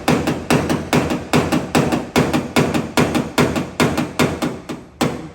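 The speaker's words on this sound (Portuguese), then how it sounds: "Então eu tô batendo, a lata tá suave para voltar no seu estado original" A hammer taps dents out of car sheet metal during paintless dent repair, about a dozen sharp metallic strikes in a steady, closely spaced rhythm, loud and near, with no talking.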